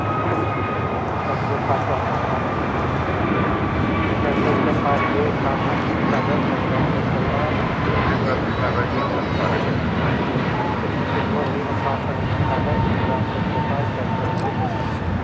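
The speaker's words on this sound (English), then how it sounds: "That was American Airlines 2023 taking off to Charlotte on an A321neo." An American Airlines A321neo takes off from LAX bound for Charlotte, its engines a steady, loud roar that holds through the whole stretch.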